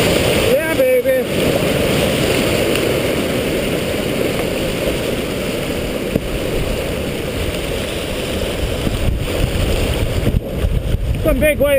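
Loud, steady roar of river rapids with big waves on Kenduskeag Stream, wind buffeting the microphone, and brief shouts breaking through near the start and end.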